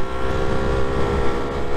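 A Lambretta scooter's two-stroke engine runs steadily through a gear change, a continuous buzzing drone with wind rush, close and loud, with no clear dip in revs.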